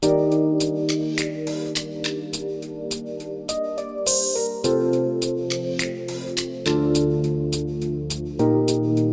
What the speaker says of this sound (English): The next thing I added was a snap.